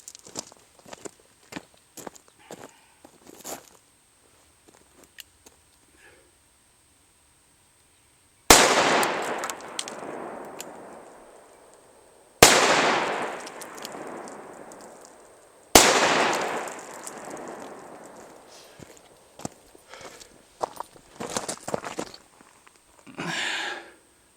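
Three loud, sharp revolver blasts from a Taurus Judge fired into 2x4 boards at 10 feet, each with a quick decaying tail, spaced a few seconds apart, with small handling clicks and shuffling before and after.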